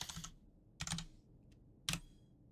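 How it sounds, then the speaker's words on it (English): Keystrokes on a computer keyboard during a Final Fantasy XIV Shadowbringers gaming session, coming in three short, separate bursts of clattering typing with brief pauses between them, close and fairly quiet, with no talking. "Hate typing this word."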